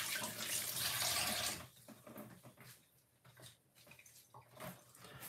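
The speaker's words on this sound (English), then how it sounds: "put some mint into the water like this, into the cup, and pour some water" Water pours into a cup holding mint leaves, starting as a loud, close rushing splash that cuts off after a second and a half, followed by quieter trickles and soft clinks.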